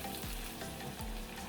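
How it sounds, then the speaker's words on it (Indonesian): Dried chilies, whole peppercorns and shallots fry in hot oil in a steady, dense sizzle, with a few low knocks of stirring. No voices are heard. "Ini kita goreng sampai bawang merahnya itu layu."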